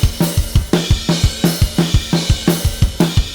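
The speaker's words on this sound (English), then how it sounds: "clipping is a great way to get a little bit more headroom out of our drums" A punchy, steady drum loop with hard-hitting kicks and snares, dense and loud with a slightly squashed, clipped edge.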